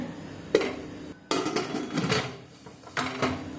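A lid set onto a pressure cooker holding cluster beans for steaming gives several sharp metallic clanks and rattles, spaced over a few seconds, close by with no talking.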